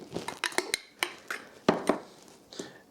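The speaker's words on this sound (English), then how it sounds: "And just making sure you scrape the bottom too to get all the flour off the bottom there." A spatula scrapes and knocks against a mixing bowl while sourdough starter and flour are mixed, giving a quick series of close, sharp clinks and scrapes with short gaps between.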